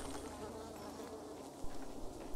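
Bees buzz steadily in the video game Dying Light 2, a continuous insect drone at low volume with a faint thump partway through and no talking.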